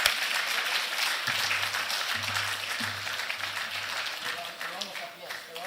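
Applause after a speech at a national mining dialogue in Ghana, a moderate wash of clapping across the room with a low hum underneath, gradually thinning toward the end.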